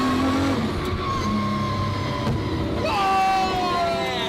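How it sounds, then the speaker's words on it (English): Drift car engine revving, set up with a handbrake for drifting on a bumpy road, a steady drone that climbs into a sharper rising rev near the end. "I just want to hear the revving on it."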